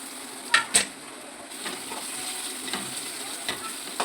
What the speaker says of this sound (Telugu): ఇలాగా మళ్ళీ ఫ్రై చేసుకోవాలి ఆనియన్స్లో